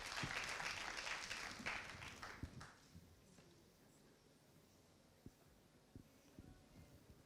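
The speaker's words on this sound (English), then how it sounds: "Give her a big round of applause." Conference audience at a Pan African gathering on illicit financial flows and taxation applauds a women's rights activist joining the panel. The full burst of clapping lasts about three seconds, then dies away into a few scattered claps in a quiet hall.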